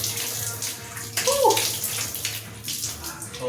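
Water runs from a newly installed bathroom faucet, a steady rushing flow under a brief excited shout and a few spoken words close by.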